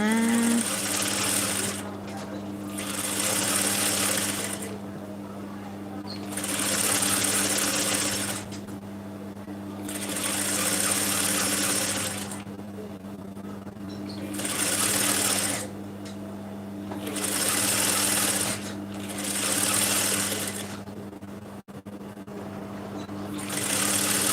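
A sewing machine with a regular presser foot stitches a narrow double-folded hem on fabric, running in repeated short bursts of rapid whirring separated by brief pauses, steady and fairly close.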